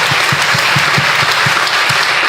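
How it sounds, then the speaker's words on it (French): A church congregation applauds during a sermon, with loud, dense clapping and a regular rhythmic beat running under it, like hands keeping time with worship. "Applaudissez pour le Seigneur."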